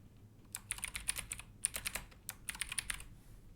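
Keys clatter in quick, uneven bursts as someone types into a website form on a computer keyboard, close and fairly quiet, with short pauses between runs of strokes.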